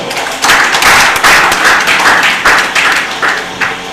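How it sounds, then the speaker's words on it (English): An audience at a live quiz competition breaks into steady, loud applause, dense rhythmic clapping that swells in waves and carries on without talk over it. "So that applause goes for all of us."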